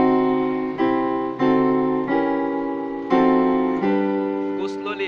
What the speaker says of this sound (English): they are all diminished chords, so they sound like this.